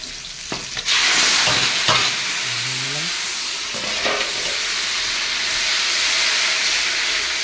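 Boiled tomato paste goes into hot oil tempered with green chilli, giving a loud, steady sizzle and hiss with a few stirring scrapes near the start, continuing close up without talk.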